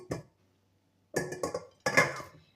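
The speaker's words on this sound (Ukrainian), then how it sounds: "тепер я ці нарізані баклажани складаю в каструльку" Three bursts of clattering, clinking cut eggplant pieces dropping into a metal pot, one short and two longer, close and fairly loud with quiet gaps between.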